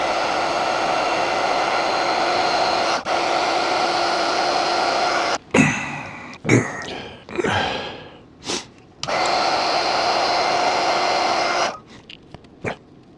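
Heat blower warming a stuck part on a 1939 Parker Vacumatic fountain pen: a steady, close whooshing drone that cuts off, restarts in short bursts and clicks, then runs steadily again.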